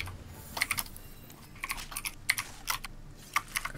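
Someone types on a computer keyboard while playing a PC game, scattered clusters of light clicky keystrokes with short pauses between bursts, close but fairly quiet, with no speech.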